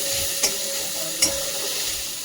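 Spice masala frying in a pan for a vegetarian kofta curry, a loud, close, continuous sizzle with a couple of brief stirring scrapes and no talking.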